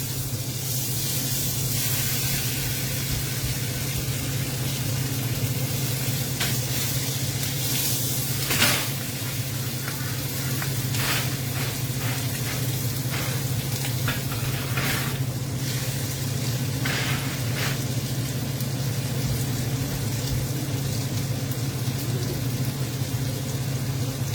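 Pork ribs searing in a pan on a stovetop give a steady, loud broadband sizzle and hiss throughout, with a low hum beneath and a few brief clatters.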